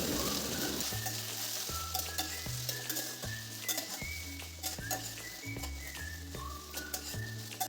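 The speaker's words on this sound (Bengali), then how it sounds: "তেলটা গরম হয়ে গিয়েছে, আমি তেলে আগে পটলটা ভেজে নেব।" Pointed gourd (potol) pieces frying in hot oil in a kadai, a constant broadband sizzle with occasional stirring clinks, while steady rhythmic background music plays throughout.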